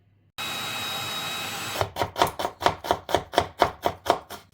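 A knife finely chopping onion on a board, about a dozen quick even strokes after a short pause, close and clear over a steady low hum.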